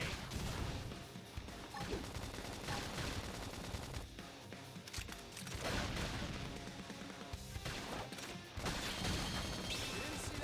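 Flame grenade going off in the Xenoblade Chronicles X Definitive Edition combat: a chaotic stretch of bursting blasts, crashes and rapid gunfire-like impacts, loud and dense with brief lulls, layered over battle music.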